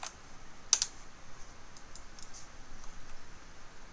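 Quiet, sparse keystrokes on a computer keyboard, a few light clicks with one sharper tap near the start, scattered irregularly over a low background hum with no talking.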